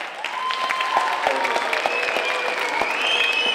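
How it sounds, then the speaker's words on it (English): An audience claps steadily, a dense wash of applause that stays even throughout, with a few whoops rising above it. "right now I'm very curious whether you can applaud"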